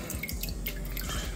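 Water runs and splashes steadily from a tap while whiting fish are scaled with a spoon under the stream, continuous and close.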